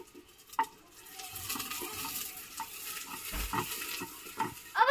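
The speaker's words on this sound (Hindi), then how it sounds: "प्याज को अब हम फ्राई करेंगे इतना ये गोल्डन ब्राउन हो जाए।" Onions sizzling softly in a pan for Kashmiri shajkan, a quiet frying crackle with occasional clinks and stirring scrapes, no talking.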